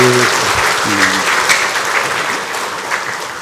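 Wedding guests applaud the couple in a dense, steady burst of clapping from a sizable crowd, with a brief voice at the very start.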